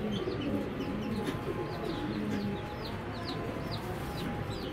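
A Belgian-breed racing pigeon hen coos softly in a loft while other birds chirp in sharp, scattered calls over a steady background murmur.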